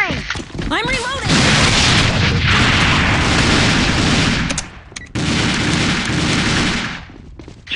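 Grenade blast and sustained gunfire in the online shooter AVA, a dense, loud wall of automatic fire and booms running almost continuously, with game voice callouts heard over it.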